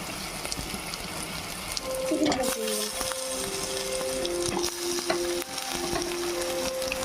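Chicken pieces for a curry sizzle and fry steadily in a pan, a constant crackling hiss with a few stirring clinks and scrapes, with a voice talking over it.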